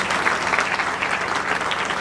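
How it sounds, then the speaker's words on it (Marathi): Steady, dense applause from an audience at a felicitation ceremony and career guidance event, a continuous clatter of many hands held at an even level for the whole stretch with no pauses. "यानंतर विशेष टाळ्या वाजवा फोटोग्राफर साठी."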